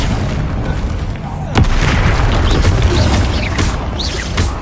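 Magical Confringo blast in Hogwarts Legacy, a loud booming explosion that hits sharply midway and leaves a rumbling, crackling wash of combat effects behind it.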